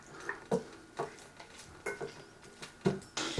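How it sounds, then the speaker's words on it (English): Onions clatter and scrape in a pan as they are stirred, in short repeated strokes about every half second, fairly quiet with a light sizzle beneath. "I've got the onions in there and mix them up a little bit"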